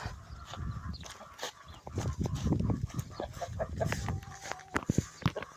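Hens cluck and chatter in short, irregular bursts at close range, mixed with scattered barnyard noises over a busy background.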